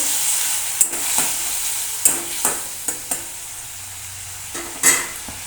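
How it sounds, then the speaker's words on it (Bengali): Spatula stirring and scraping through a frying cumin-powder masala loosened with a little water for a vegetarian chickpea and green pea curry, with soft sizzling under a run of irregular scrapes and clacks against the pan. "অল্প একটু জিরে গুঁড়ো দেব জল দেব অল্প জল দিয়ে কষতে থাকবো"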